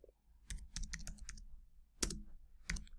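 Keystrokes on a computer keyboard, a few quick clicking taps in short bursts with pauses between, close and fairly quiet, no talk.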